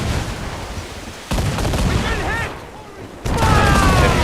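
Ship cannon and swivel gun firing in the naval combat of Assassin's Creed 4, dense rumbling booms in sustained volleys that swell in two surges, loud and close, heavy and continuous throughout.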